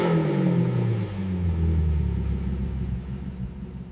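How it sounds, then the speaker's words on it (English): Loud, close exhaust note of a 2026 Porsche Panamera Turbo S E Hybrid, a deep, rumbling engine that revs and swells, sweeping in pitch and holding steady throughout with no talk. "Tuning the exhaust note."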